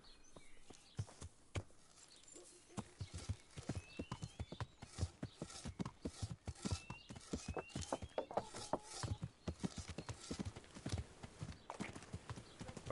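Horse hooves clip-clop steadily at a walking pace in the medieval video game Kingdom Come Deliverance, with a neigh breaking through, against faint outdoor ambience and birdsong; no talking.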